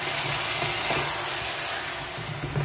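Achari mutton being stirred in a pan after water is added: a steady sizzle and frying hiss with soft scraping and clinking from the spoon, continuous and close, with no voices.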